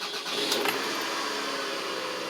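A car engine cranks briefly and catches, then settles into a steady running hum, moderately loud with no talking.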